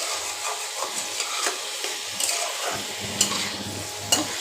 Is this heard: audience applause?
no